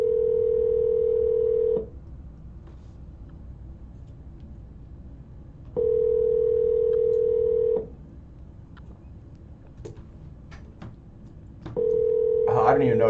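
A telephone call rings out unanswered: three long, steady ringback tones at even intervals, each about two seconds, with a quiet hiss and faint clicks between them.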